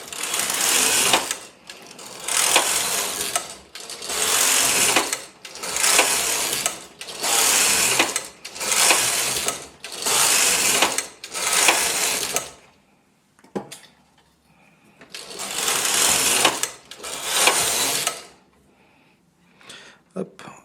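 An SK840 knitting machine carriage is pushed across the needle bed in repeated loud, rasping sweeps of about one to two seconds each, with brief pauses between passes and a longer gap before a final sweep.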